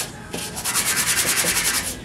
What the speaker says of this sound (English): Put a sandpaper here. Just clean up the top part, the surface.